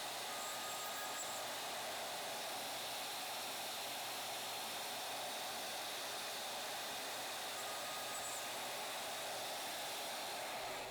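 A Shaper Origin handheld CNC router cuts a pocket for a box joint, giving a steady, loud whirring hiss that runs unbroken throughout.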